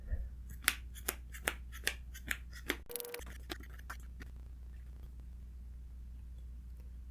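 Trading cards being shuffled by hand at a table for a Tri-Brigade Lyrilusc deck, a regular run of crisp snapping flicks, followed by a brief rustle and then quiet handling.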